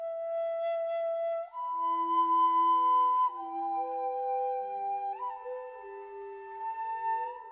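A breathy flute phrase of sustained, stepwise notes, processed with a Dark Secret grain synthesis preset in the Portal plugin mixed low, leaving a faint delayed shimmer behind the clear, continuous melody.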